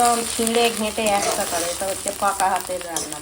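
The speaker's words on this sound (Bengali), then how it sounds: "ডিমটা চাপিয়ে দিলাম কাঁচা লঙ্কা দিয়ে" Egg frying in a pan with green chillies and onion gives a steady, close sizzle and crackle for a few seconds, with a voice talking over it.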